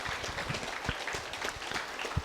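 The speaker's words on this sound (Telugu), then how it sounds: "ఒకసారి గట్టి క్లాప్స్ అండి" An audience at a pyramid meditation celebration event in Kothapet claps, giving a short stretch of steady, moderately distant applause with scattered individual claps.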